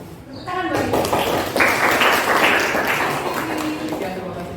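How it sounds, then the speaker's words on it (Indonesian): An audience applauds a presenter at a teachers' coaching session with a steady wash of clapping. Speech and other voices run over it throughout. "Tepuk tangan buat dia."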